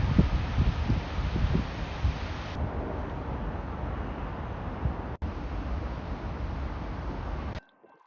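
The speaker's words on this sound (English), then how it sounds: "Oh, that's a windy day." Strong wind blows outdoors on a gusty day, a loud rumbling roar battering the microphone continuously before cutting off abruptly near the end.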